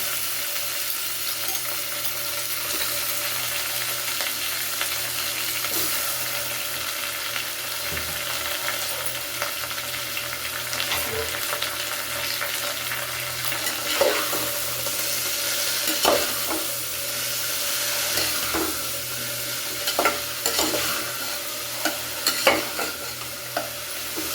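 Potatoes frying and being stirred in a pan for a vegetable kootu, a steady broadband sizzle with scraping spoon strokes and occasional clinks, close and continuous with no talking.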